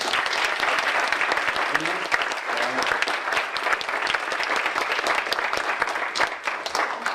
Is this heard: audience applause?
yes